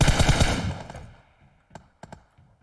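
Automatic gunfire rattles from behind in PUBG Mobile: a loud, rapid burst up close fades out, followed by a few sharp, isolated shots against near silence.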